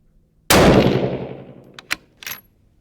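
A single loud rifle gunshot from a 6 Creedmoor fired at a 200-yard target, a sharp close blast with a long rolling echo, followed by faint metallic pings.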